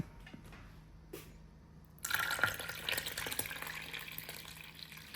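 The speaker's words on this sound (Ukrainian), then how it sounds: "І от заливаємо нашою заливкою перець." A sauce of sour cream, tomato paste and smoked paprika is poured over stuffed peppers in a pot. After a quiet start, a continuous wet pouring rush begins midway and holds steady to the end, close by.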